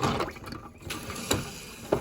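Water runs into a toilet cistern as it refills, a faint, uneven trickle and splash close by with a few brief louder gurgles and drips, no voices over it.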